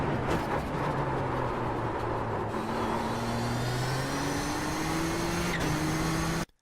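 A Nissan GTP ZX-T race car engine in the iRacing game at Sonoma Raceway, a steady whining drone that climbs in pitch as full throttle builds, then cuts off abruptly at the end.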